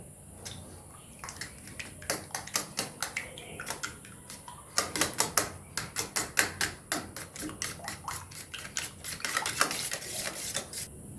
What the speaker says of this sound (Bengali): ডিমটাকে এবার ফেটিয়ে নেব।